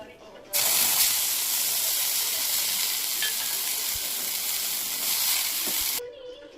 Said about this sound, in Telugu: ఇప్పుడు కొద్దిగంత ఆయిల్ పోసుకొని పుదీనా ఫ్రై చేసుకోవాలి.